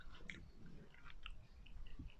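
Someone chews a mouthful of freshly cooked Charsadda shola rice, soft and sticky, with close, moist mastication sounds and a few faint clicks, no talking.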